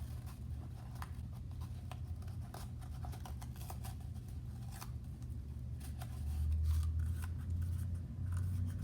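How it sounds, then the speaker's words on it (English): Tape is wound around a homemade stomp rocket, giving a faint, steady crackle with scattered sharper ticks, heard close and quiet with no voices. "Tape that all the way around."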